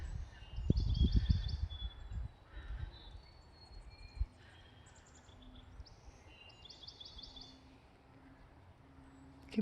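Birds chirp in short repeated phrases high up in trees, faint and distant, over low outdoor rumble and a few nearby rustles and thumps.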